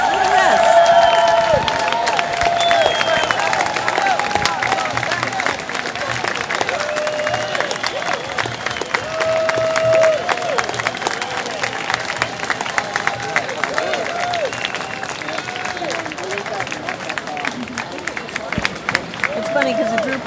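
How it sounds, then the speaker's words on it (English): A crowd in Zuccotti Park applauds passing firefighters, dense continuous clapping and cheering close by, with people talking over the applause throughout. "the firefighters. just passed by, and everybody's applauding them"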